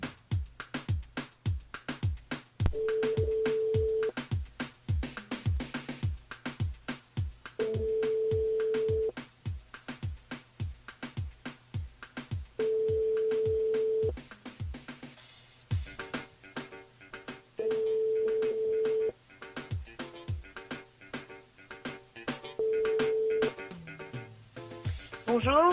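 A phone rings out repeatedly on a French radio call-in line, its steady two-tone rings returning in evenly spaced bursts, fairly loud over a rhythmic music bed with a faint voice near the end.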